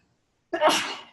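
A single sharp human sneeze bursts out after a half-second of silence, close and loud, then trails off quickly as a voice begins right at the end.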